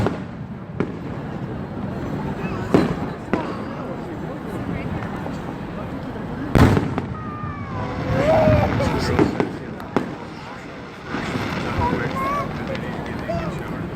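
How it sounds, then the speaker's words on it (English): Fireworks burst over Niagara Falls in a series of sharp booms and crackles, some close and loud, with spectators chattering and exclaiming between the blasts. "The finale is just boom after fireworks."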